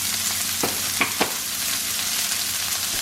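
Already-cooked food seasoned with salt and pepper chars in a hot pan, giving a loud, steady close-up sizzle with a couple of quick stirring scrapes.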